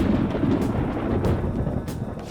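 Thunder in Persona 5 Royal near Leblanc Cafe: a deep, continuous rolling rumble, fairly loud and close, sustained with no break for a couple of seconds.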